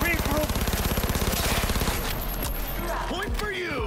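Submachine gun bursts in the Cyberpunk 2077 video game, a loud rapid stream of shots for about two seconds followed by a shorter burst and scattered impacts, with a voice faintly underneath.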